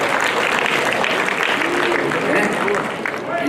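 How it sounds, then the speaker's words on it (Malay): Applause from an audience at a Malaysian public-service pay-scheme engagement session: a steady wash of clapping filling the whole stretch, with voices mixed underneath. "Beri tepukan pada dia soalan yang terbaik."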